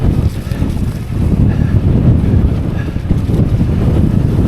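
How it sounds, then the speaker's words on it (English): A strong gale blows across the moor on the Widdop loop, a loud, constant roar of wind buffeting the microphone with gusting surges throughout. "it's absolutely blowing a gale up here."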